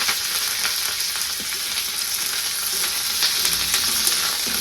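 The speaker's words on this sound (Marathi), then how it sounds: "ही कढीपाला मी तेल ओतले तेलामध्ये टाकून" Curry leaves frying in hot oil, a loud, dense, continuous sizzle and crackle heard up close and alone, with no voices.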